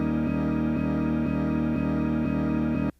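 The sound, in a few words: looped quarter-note slice of a sample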